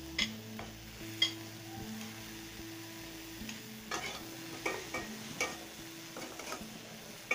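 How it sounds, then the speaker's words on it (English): Tomatoes go into a pot of vegetables cooking for one-pot chicken and vegetable rice, with a soft, quiet sizzle under a series of light clicks and scrapes of a utensil against the pot. "Now I am going to add the tomatoes."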